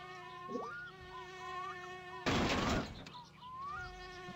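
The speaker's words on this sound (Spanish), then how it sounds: "La mosca que pesa." Fly buzzing in the driving simulation game My Summer Car, a close, high whining drone that rises and falls, briefly swamped by a loud burst of noise midway.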